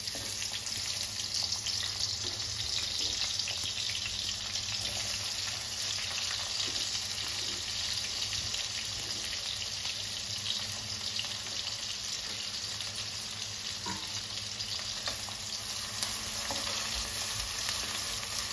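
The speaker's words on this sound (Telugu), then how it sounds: "ఇప్పుడు ఆనియన్స్ యాడ్ చేస్తున్నారా?" Onions fry in hot oil in a pan, a steady loud sizzle holding for the whole stretch with occasional faint stirring clinks and no voices.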